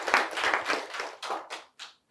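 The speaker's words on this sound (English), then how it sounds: "can we just give a round of applause?" A small audience claps a short round of applause at a morning agricultural gathering, the dense clatter thinning into a few last scattered claps near the end.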